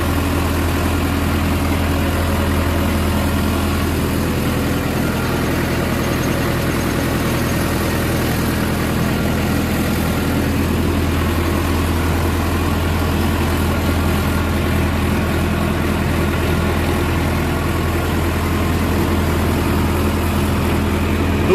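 Indo Farm 3065 DI 65 HP tractor with an 11-tine cultivator attached, its diesel engine running steadily with a deep, constant low rumble, loud and close throughout with no talking.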